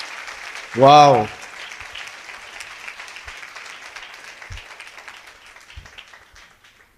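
An audience at a Hindi Christian sermon applauding, a soft, diffuse patter of many hands running throughout, with a single voiced exclamation near the start.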